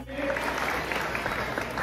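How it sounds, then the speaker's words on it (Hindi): Audience applauding for a child performer at a Pakistani community event, a continuous dense wash of clapping throughout, moderately loud. "इस बच्चे के लिए भरपूर तालियां"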